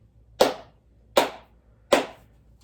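Three sharp hand claps, evenly spaced and close, snap out in an otherwise quiet indoor room during an interview at a museum, with no one speaking.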